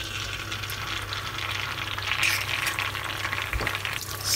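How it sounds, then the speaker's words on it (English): An egg frying in olive oil in a pan, a steady close sizzle and crackle throughout, with brief scraping or stirring sounds partway through. "The last one, we need to fry an egg. So this is an olive oil."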